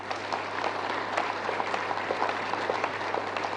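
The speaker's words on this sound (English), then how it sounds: "I can't feel the dynamism in your applause" At the Ghana Club 100 Awards Night, a crowd applauds in a continuous, even roar of clapping that holds at steady volume with scattered sharper claps and no talk on top.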